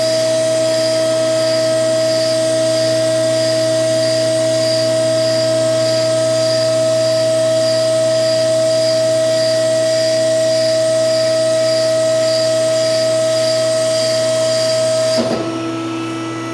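A mandrel tube bender bending chromoly tube for a drag car back half, a steady loud mechanical drone with a hydraulic hum that holds evenly, then cuts off near the end with a short clunk.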